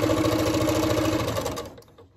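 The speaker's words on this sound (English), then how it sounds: "So I'm going to go ahead and chain piece these two items here." A home sewing machine chain-piecing fabric for a sawtooth star quilt block runs at a steady, close mechanical whir for under two seconds, then winds down and stops.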